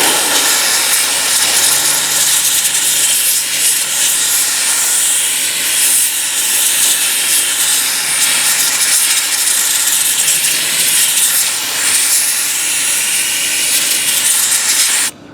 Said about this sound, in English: I'm going to take my steamer and I'm going to steam over the emblem.